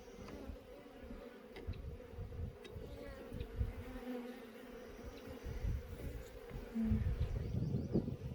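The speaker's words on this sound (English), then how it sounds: "It typically is going to be where all the bees are." A dense colony of honeybees buzzes over a hive frame with brood and eggs, a continuous close drone with individual bees swelling louder as they pass, with no voices.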